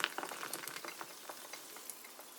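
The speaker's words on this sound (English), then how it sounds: "you open up this can of Classic Carbonated Water and you pour it into" Classic carbonated water fizzes in a mug after being poured: a soft, dense crackle of tiny bubbles close by that slowly thins out, with no voices.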